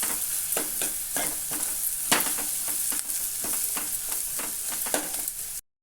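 Egg fry with garlic and chili being stirred in a hot pan, loud continuous sizzling with repeated scraping spatula strokes in an uneven rhythm, close up and without any voices.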